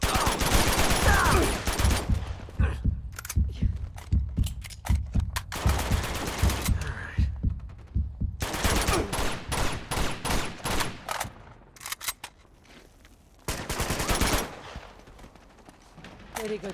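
Loud, sustained automatic gunfire in Uncharted: Among Thieves, with dense rapid shots and sharp single cracks that come and go in waves, broken by brief lulls, while characters speak over parts of it.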